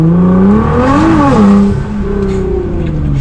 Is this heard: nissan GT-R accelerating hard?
yes